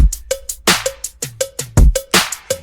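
Modern pop drum loop built in FL Studio, with punchy kicks, layered hi-hats, a tonal cowbell and a shaker mixing acoustic and synthetic trap-style elements, playing a busy, steady rhythmic pattern loud and up close with no voices.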